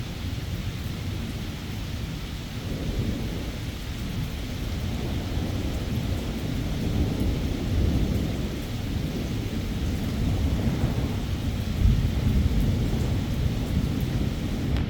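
Evening thunderstorm passing through, with steady broadband rain and low rolling thunder rumbling continuously beneath it, swelling slightly around the middle and with a brief louder peak near the end, no voices.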